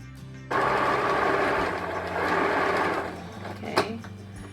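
A sewing machine stitching fabric for a DIY fall decor project whirs into a fast, steady run for about three seconds, then stops with a small click. It is close and alone, with no talking.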